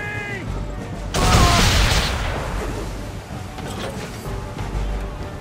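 A ship's cannon broadside in an Assassin's Creed 3 naval battle erupts as a sudden loud booming volley, then rolls into a long rumbling decay over constant sea and wind noise.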